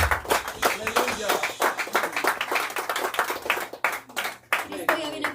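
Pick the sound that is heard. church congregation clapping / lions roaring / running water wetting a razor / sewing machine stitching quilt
church congregation clapping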